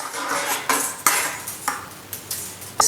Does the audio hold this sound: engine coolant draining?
no